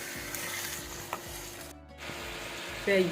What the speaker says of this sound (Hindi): अब इसको हम अच्छी तरह फ्राई करेंगे